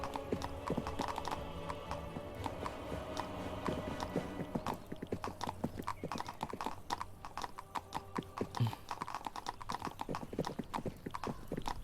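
Horse hooves clip-clop steadily in the medieval video game 1428: Shadows over Silesia, with a neigh over continuous walking steps, close and moderately loud, with no speech.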